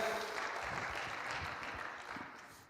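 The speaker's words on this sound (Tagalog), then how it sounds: "Pwede ba natin bigyan ng malakas si Lord, ng malakas sa palakpak?" A church congregation applauds during a worship service, with a broad, even wash of clapping from many people that slowly tapers off toward the end.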